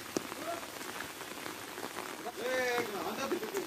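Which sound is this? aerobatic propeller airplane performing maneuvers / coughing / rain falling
rain falling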